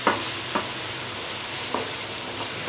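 A keema and bitter gourd mixture being stirred in a pan with crushed coriander and spices, a soft steady sizzle broken by a few sharp scraping strokes of the spoon, close and without talk.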